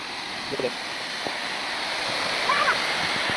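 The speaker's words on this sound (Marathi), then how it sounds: "तर पाहू शकता मित्रांनो जवळ न कसा धबधबा दिसतोय खूप छान असा धबधब्याचा नजारा आहे" Bhivtas waterfall in the rainy season gives a constant broad roar of rushing water, loud and close, with a few faint chirping tones above the rumble.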